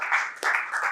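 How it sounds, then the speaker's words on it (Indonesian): Students in a classroom give a short burst of applause lasting about a second, moderately loud with uneven clapping. "Tepuk tangan buat kalian semua."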